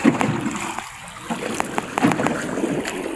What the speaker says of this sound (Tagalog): Na ano ang dagat na ang laki ng mga alon, oh.